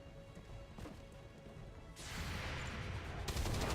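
Overwatch gunfire triggered in the video game XCOM 2, with a faint lead-in and then a sudden loud burst of shots and crashing impacts that swells toward the end, with no talking.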